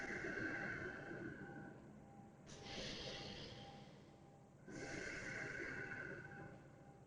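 Deep, steady breaths during a yoga practice: two long, airy inhale-exhale swells, each lasting about two seconds, are heard close and clear over a low, soft background.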